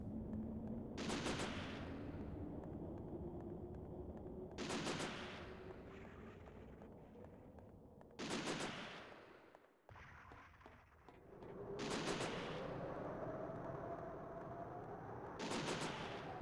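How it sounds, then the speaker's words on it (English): Gunfire in the disaster game Disaster Report, five single sharp shots spaced a few seconds apart over a low steady hum, fairly faint and distant, with no talk. "What's he shooting at, the weirdo?"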